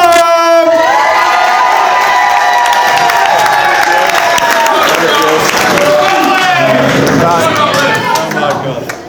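Wedding guests at the Woodlands Hotel in Leeds give a loud, sustained cheer for the groom, a dense crowd roar with whoops and shouts that carries for several seconds before tapering off.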